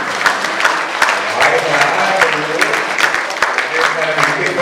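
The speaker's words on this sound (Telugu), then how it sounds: "ఒకసారి చప్పట్లు కొడదామా?" A crowd claps steadily and loudly at a camp programme, many hands together in a dense, continuous burst of applause.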